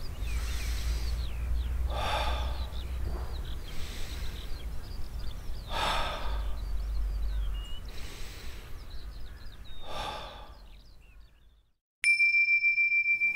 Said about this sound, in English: Then close the exercise again with a triple breathing.